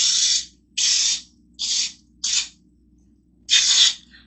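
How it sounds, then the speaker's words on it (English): Baking spray with flour hisses from an aerosol can into a cake pan in five short, loud bursts separated by brief pauses, the last one slightly longer. "Here's my baking spray with flour. I'm going to put that definitely in the corners."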